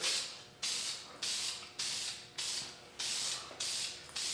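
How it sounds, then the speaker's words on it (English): A spray paint can is shaken in about seven even, rhythmic bursts, each a bright rattling hiss that fades before the next stroke, recorded close up with no voices, before painting a motorcycle upper triple clamp. "We're just going to shake the can up."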